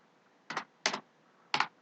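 Keys on a computer keyboard are tapped in four short bursts, each a quick double or triple clatter, close and clear, with quiet pauses between and no voices.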